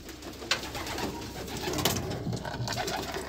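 A young racing pigeon chick coos softly in a loft, with faint, low murmuring calls amid light rustling and background noise.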